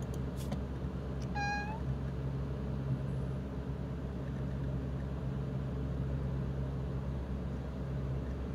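A single close meow from a cat rises over a steady low electrical hum, followed by several seconds of quiet droning background.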